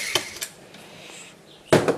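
Small metal screws being worked loose from the bracing of an old desktop computer motherboard during a strip-down for parts, heard as a few sharp, close clicks and clatters separated by quiet pauses, with a louder metallic rattle near the end.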